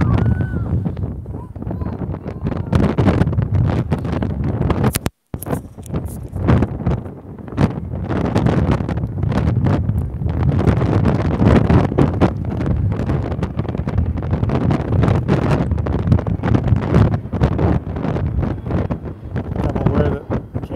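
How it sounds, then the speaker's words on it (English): Strong wind buffets an outdoor microphone in loud, continuous low rumbling gusts, with one brief dropout partway through and no clear voices over the roar. "it's very windy here"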